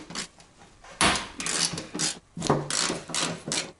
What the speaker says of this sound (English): get your socket wrench and a 10mm socket and remove these three 10mm bolts